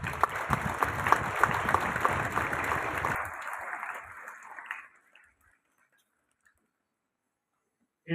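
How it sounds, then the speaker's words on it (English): Applause from a school assembly crowd, dense and lively at first, then thinning out and fading to silence about halfway through. "A huge round of applause for all of you."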